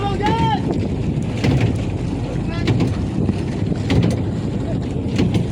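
The steady low rumble of a boat's two engines fills the scene with heavy wind buffeting, and brief voices break through over the drone.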